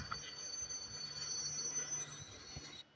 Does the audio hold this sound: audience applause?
no